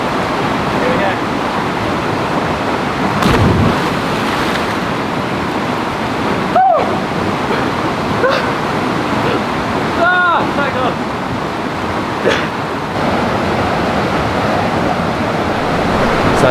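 Rushing river water at a campsite in Chichester State Forest, New South Wales, a steady loud broadband roar filling the whole clip with a few faint tonal bird-like calls over it and no talk.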